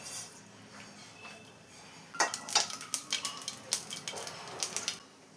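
Mustard seeds dropped into hot coconut oil in a pan, spluttering in a burst of sharp crackling pops after a quiet start, close and fairly faint, no talk.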